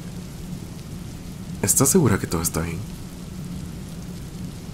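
Steady rain falls outside a house, a soft constant hiss underneath as someone speaks briefly in the middle.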